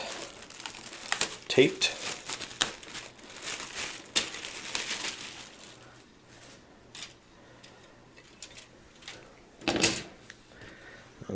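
Plastic packaging of a Dropfleet Commander UCM miniatures bundle handled up close, with crinkling and crackling rustles throughout the first half, quieter scattered handling later, and one more sharp crinkle near the end, while a person talks.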